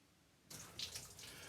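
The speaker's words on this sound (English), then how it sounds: "Look at the water running out." Water gushes out of a Cat 60 crawler's engine block after an expansion plug tips sideways, starting abruptly as a steady splashing, pouring stream close to the microphone.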